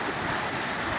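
Heavy-rain floodwater surges by at speed, a constant broadband rushing wash filling the moment at close range, unbroken and without voices.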